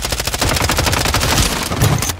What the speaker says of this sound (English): I got sniped from the right.